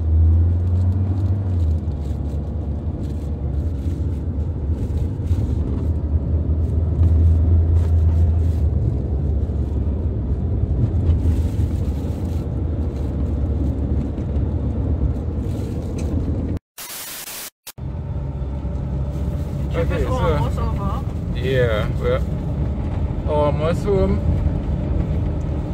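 Steady, loud interior rumble and broadband road noise inside a moving car, broken once by a brief dropout, with faint voices and small sounds over the constant drone.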